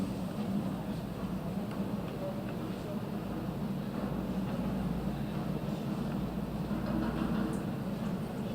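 A low, steady rumble of a train fills the scene in The Raven: Legacy of a Master Thief, aboard the Orient Express, a continuous close mechanical drone with faint voices mixed in.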